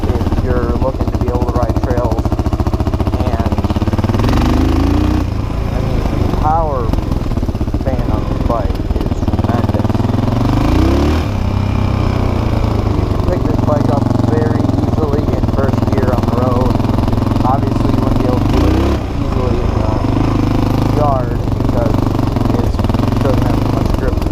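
A 1996 Yamaha XT 350 motorcycle engine runs loud and steady throughout, with someone talking over it the whole time.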